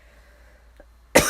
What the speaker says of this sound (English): As I coughed it, look.